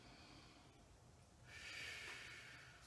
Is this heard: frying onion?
no